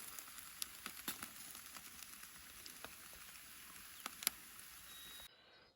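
Quiet, steady crackling and popping of chicken wings frying in hot oil, with scattered sharper spits, close by and continuous until it cuts off.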